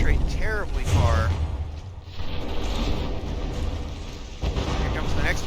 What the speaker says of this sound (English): Here comes the next volley.